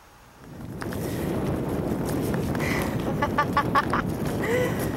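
Strong wind sweeps across the seashore at Parc National du Bic, a steady, loud, broadband rush that rises after a quieter first half-second and keeps gusting.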